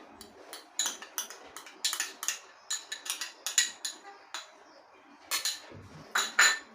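A spoon or whisk clinks and knocks against a bowl in quick irregular taps as melted butter is mixed into donut dough, close and fairly quiet, with no talking.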